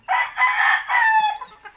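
A loud Kelso gamefowl rooster crow up close, a single drawn-out call rising and trailing off.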